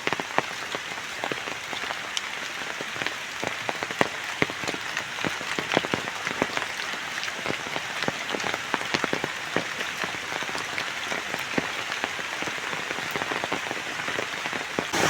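Heavy monsoon downpour in a rural village, a loud, steady roar of rain sprinkled with sharp close drips and splashes, unbroken for the full stretch with no voices.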